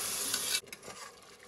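Ginger garlic paste and tomato sauce sauté in a pan, a loud hissing sizzle that cuts off abruptly, followed by quieter scraping and stirring sounds.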